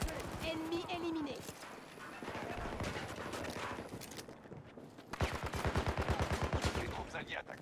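Gunfire in the Battlefield 2042 video game, rapid bursts of shots crackling through a busy battlefield mix, with a sharp loud volley near the end and a voice talking over parts of it.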